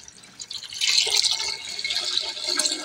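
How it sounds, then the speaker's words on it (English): Two litres of water poured into a bowl holding a mix with powdered milk for a graham dessert, a steady close splashing and trickling stream that swells after the first second and keeps running. "Lagay na rin tayo ng 2 litro na tubig"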